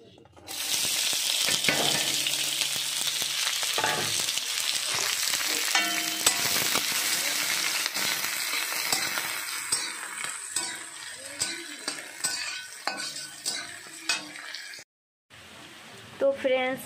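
Broken dried red chillies frying in a pan, a loud, steady close sizzle with occasional scrapes of a utensil against the pan, easing toward the end with a brief silent gap.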